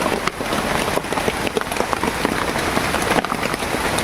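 Steady rain falls onto a surface outdoors, a constant hiss of drops with scattered louder patters, close and even throughout, with no talking.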